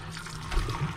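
A small splash of water poured into a pan of sour-cream mushroom sauce thickened with a spoonful of flour, a brief, close liquid trickle over low kitchen hiss.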